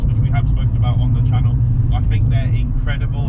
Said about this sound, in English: I can only apologise about the road noise